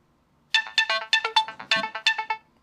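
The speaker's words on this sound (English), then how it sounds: "you can see I got a text message" Samsung Galaxy S3 text message notification tone, a short melodic ringtone-like chime of rapid bright pulsed notes lasting about two seconds, loud and clear with no talk over it.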